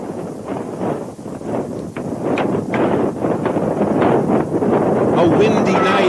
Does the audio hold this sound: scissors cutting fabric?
no